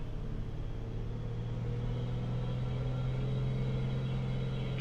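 An aircraft engine runs steadily in a flight simulator, a constant low droning hum with a strong tonal buzz. It holds even and unbroken throughout, with no talking over it.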